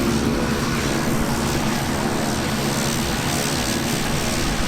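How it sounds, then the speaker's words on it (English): A steady, loud propeller-aircraft drone fills the whole stretch, a continuous engine roar with no voices. "There's an airplane in the back."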